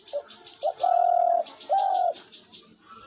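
A caged hunting dove offered for sale coos in a few drawn-out, tonal calls with short clipped notes between them, close and clear against a quiet background.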